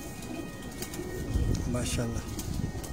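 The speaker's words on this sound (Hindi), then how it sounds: "जबरदस्त कबूतर हैं जी" Racing pigeons kept as a hobby in Lyari, Karachi, coo in soft, low, overlapping murmurs close by, while someone speaks briefly over them.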